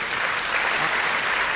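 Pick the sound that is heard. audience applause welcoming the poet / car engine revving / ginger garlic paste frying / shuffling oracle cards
audience applause welcoming the poet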